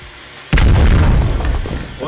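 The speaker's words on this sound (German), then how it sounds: "So, und jetzt warten, bis es explodiert." A sudden loud boom bursts in after a quiet moment in the video game SCP 022, followed by a rumbling, crackling tail that slowly fades.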